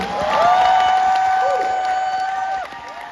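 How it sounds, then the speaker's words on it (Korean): Concert audience applauds for the music director and orchestra, steady clapping and cheering swelling then easing off, heard beneath a sustained high squeal of feedback or whistling. "권태현 음악 감독님과 팬텀 매직 오케스트라 박수 부탁드립니다."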